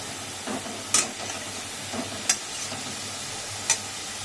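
Spice paste frying in oil in a pan for a home dinner, a soft steady sizzle with a few brief stirring scrapes at regular intervals, quiet and close.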